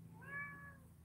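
A house cat gives a single faint meow, a short drawn-out tonal call over a low background hum.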